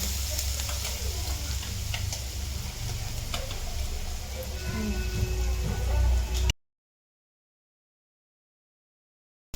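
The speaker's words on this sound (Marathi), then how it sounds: "हे वाटण बारीक करून घेतलं आपल्याला छान असं परतून घेतो एकदम कमी गॅस करायचा" Ground spice paste with garlic sautéing in a pan over low heat for a potato patties recipe, giving a steady soft sizzle with faint ticks of stirring for about six seconds before the sound cuts off.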